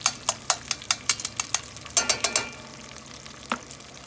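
Bacon frying in a pot gives a close run of crisp, rhythmic pops and scrapes over a low hiss, thinning out toward the end with one last isolated pop.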